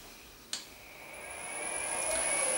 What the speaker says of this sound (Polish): Jak widać, silnik stopniowo rozpędza się do tam jakiejś zadanej prędkości